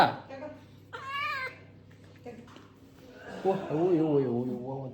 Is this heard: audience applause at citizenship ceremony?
no